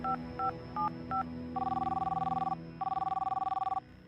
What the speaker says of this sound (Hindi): अखिल ने जेब से मोबाइल फोन निकालकर देव को कॉल लगाई